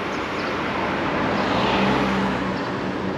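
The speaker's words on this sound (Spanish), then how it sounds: "A ver si no me atropella un carro aquí." A car passes close by on a street in Río Grande, Puerto Rico, its engine and tyre noise swelling to a peak midway and then easing off, loud against the steady roadside noise.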